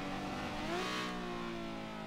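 A video game car engine revs up and climbs in pitch, then holds a steady, close, loud drone, with no speech heard.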